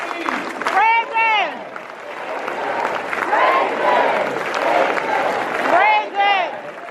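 A crowd of students at a university orientation claps together in rhythmic bursts, loud and close, while a leader's voice calls out over the clapping between rounds.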